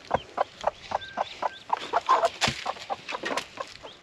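Chickens clucking at an off-grid homestead, a steady run of short, rhythmic clucks close by with a few louder squawks clustered in the middle, no talking.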